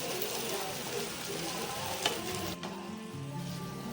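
Paneer gravy simmers and sizzles in a pan as it is stirred after water is added, a faint, steady bubbling hiss with soft scraping throughout.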